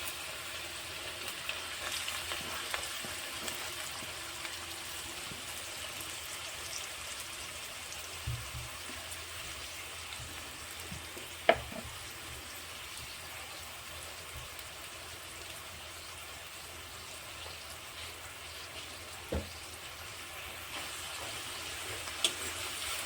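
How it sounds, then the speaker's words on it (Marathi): Two medium onions, finely chopped, frying in well-heated oil for a spicy Kolhapuri chicken masala, a steady soft sizzle and crackle held at an even level throughout with a few sharp pops and no talking. "कांदा जो आहे आपल्याला एकदम असा सोनेरी रंगाचा होईपर्यंत आपल्याला याला तेलामध्ये फ्राय करायचं आहे"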